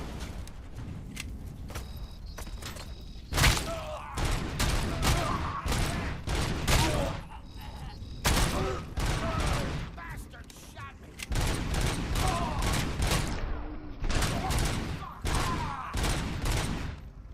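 Spraying shotgun fire in the video game RoboCop: Rogue City, with loud, close blasts in rapid clusters and a few brief lulls between volleys.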